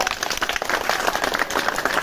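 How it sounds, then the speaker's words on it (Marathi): An audience applauding a first-prize winner at a women's gathering, a dense patter of many hands clapping steadily at close range. "जोरदार टाळ्या वाजवा."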